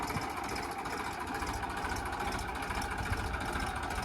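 A tractor engine idles nearby with a steady, rough mechanical rumble that holds at an even loudness throughout, with no talking over it.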